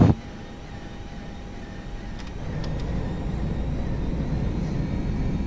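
Airbus A320 engines spooling to takeoff power in the X-Plane 11 flight simulator, a steady broadband jet roar that swells slightly and holds loud and continuous, with no talking.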